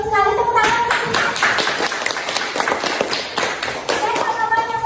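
Schoolchildren in a classroom clap together in a quick, loud round of applause lasting several seconds, with children's voices mixed in at the start and end.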